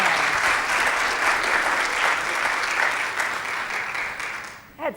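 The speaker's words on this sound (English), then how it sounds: "A round of applause." Applause from a college briefing audience fills the room, dense and steady clapping that fades out toward the end.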